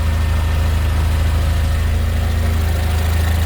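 A 600-horsepower Mercedes-Benz GLA45 AMG 2.0-litre four-cylinder idling just after start-up, a loud, steady low rumble with an even pulsing beat and no talking.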